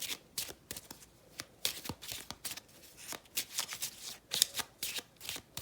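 Crisp, rapid riffling of a deck of French tarot cards, close and clear, in repeated bursts of shuffling with brief pauses between, no voices.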